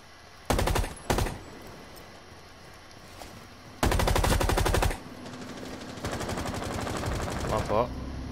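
Automatic gunfire in Rainbow Six Siege: two short bursts, then a loud sustained burst, followed by a longer stretch of continuous rapid fire.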